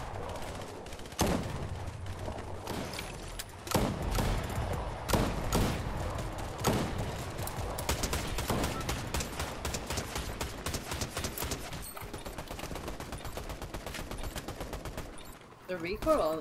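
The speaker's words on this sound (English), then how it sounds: "The recoil on this gun is not that bad compared to the Valorant guns." Rapid gunfire from a weapon in Fortnite, with repeated sharp shots and bursts throughout, fairly loud and close, alongside other game sounds and a voice talking.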